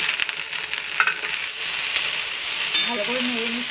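Cauliflower florets fry in oil with salt, turmeric and sugar while being stirred, making a continuous close sizzle broken by brief scrapes of the spatula.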